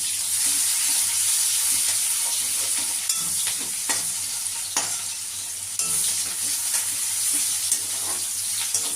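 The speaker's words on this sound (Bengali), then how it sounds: "এবার আমি পেঁয়াজ কুচিটা দিয়ে দিলাম তেজপাতা দিয়ে দিলাম গোটা গরম মশলাও দিয়ে দিলাম" Chopped onion, bay leaf and whole garam masala spices frying in hot oil, a steady close sizzle with occasional stirring scrapes throughout and no talking.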